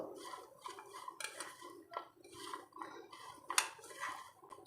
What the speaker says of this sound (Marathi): हे व्यवस्थित असं छान मिक्स करून घ्यायचं आहे